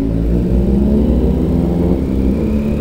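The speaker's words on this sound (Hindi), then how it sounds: "दोनों बाइक की जो एग्जॉस्ट की आवाज़ ना, एकदम बहुत कहते हैं ना एरोगेंट, एकदम एंग्री वाली आवाज़ वैसी आ रही है" A Suzuki Hayabusa and a Kawasaki Z900 ride together, their exhausts roaring in a loud, steady, aggressive drone close by with no talking.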